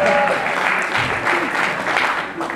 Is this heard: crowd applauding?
yes